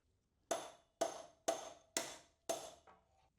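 Five evenly spaced metallic taps of a copper-faced hammer on a punch ring out in a steady rhythm, each with a brief bright ring, close and clear, during a Lexmoto LXS motorcycle radiator change.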